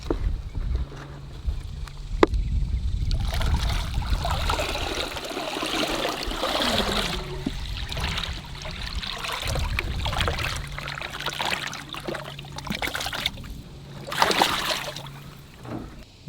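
Alligator gar poured gently from a container into pond water, with steady trickling and splashing throughout, nearby, swelling into a louder gush near the end.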